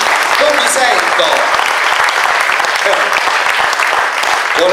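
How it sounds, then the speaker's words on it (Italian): Loud, dense applause fills a concert audience at a September festival concert in Lanciano, steady and continuous throughout, with a few voices calling out over the clapping. "un applauso, non vi sento."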